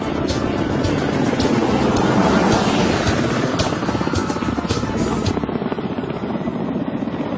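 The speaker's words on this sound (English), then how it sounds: "Ka-25 submarine Hunter starts off from the deck of the aircraft-carrying cruiser to perform a demo flight" A Ka-25 helicopter taking off from an aircraft-carrying cruiser's deck: rotor chops loudly and steadily up close, with whooshing wind and engine whine, easing off slightly toward the end.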